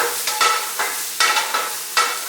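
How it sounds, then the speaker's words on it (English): Onions sautéing in a pan in a culinary arts kitchen, a loud bright sizzle broken by repeated scraping stirs at a regular rhythm, close up and without talk. "As soon as these onions saute to the color I'm looking for"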